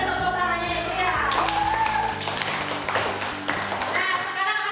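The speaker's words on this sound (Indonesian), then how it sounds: "Boleh tepuk tangannya ya, Bu, ya?" Children in a classroom clap in a burst of applause, with a teacher's voice and children's chatter running over it, the clapping fairly close and steady for a few seconds.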